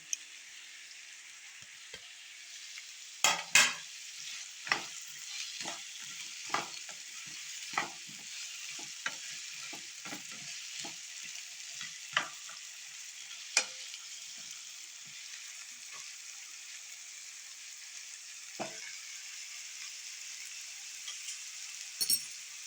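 Eggplant and onion sauté in oil with a soft, constant sizzle, while a spoon repeatedly clinks and scrapes against the pan at an uneven rhythm, close by with no talking.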